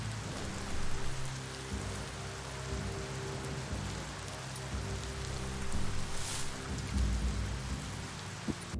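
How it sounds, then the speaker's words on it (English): Rain effect in the video game Biomutant, a constant soft hiss of rainfall on surfaces with low rumbling tones and a brief brighter swell near the middle, quiet and steady with no talking. "Nice rain effect."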